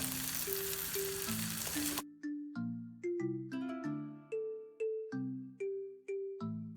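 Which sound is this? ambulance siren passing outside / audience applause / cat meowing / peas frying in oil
peas frying in oil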